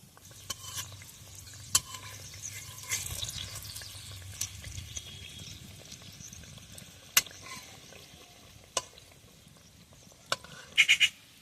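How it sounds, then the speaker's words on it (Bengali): Semolina biscuits fry one by one in a shallow layer of oil, a faint continuous sizzle broken by occasional sharp clinks and taps of a utensil against the pan. "হালকা তেলে ভাজতে হবে বিস্কুটগুলো, এক এক করে ছেড়ে দেবো"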